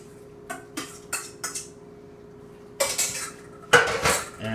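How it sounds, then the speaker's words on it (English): Soaked bread being worked into a meatball mixture in a bowl brings a run of quick metallic clinks and scrapes of a utensil against the dish, spaced at first, then a denser burst near the end. "we're gonna add the soaked bread that we had before to the mix."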